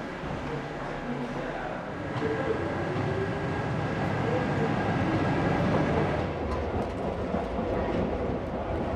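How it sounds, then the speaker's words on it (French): A Paris Métro train rumbles steadily as it moves onto a turnback track with a small platform, a continuous rolling rail noise that grows slightly louder, with a voice speaking over it. "Notre rame va prendre place sur la voie de rebroussement munie d'un petit quai"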